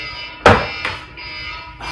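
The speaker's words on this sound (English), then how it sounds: "Let me turn off my alarm" A reminder alarm goes off with loud electronic beeps over a sustained tone, three distinct pulses in two seconds, close and with no talking.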